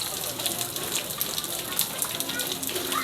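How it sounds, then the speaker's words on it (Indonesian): Cold rain falls outdoors near a mosque, a steady close patter and hiss of drops striking surfaces with scattered louder splashes throughout. "cuaca sekarang hujan dingin"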